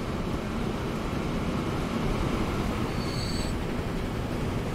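Train rolling along track in the rail simulation game Transport Fever 2, a steady dense rumble of wheels with a faint brief squeal partway through, continuous and moderately loud with no talking.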